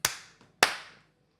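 Two sharp hand claps, made for editing sync, ring out close by, about half a second apart, each followed by a short room echo.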